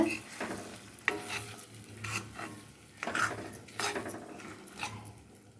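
Beaten egg poured over vegetables in a pan, sizzling softly while a utensil stirs and scrapes against the metal in repeated strokes, with a few clinks, close by and without talk.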